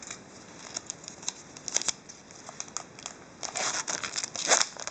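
A Pokémon Sun and Moon booster pack being opened, its foil wrapper crinkling and tearing in close, quiet bursts that grow busier toward the end.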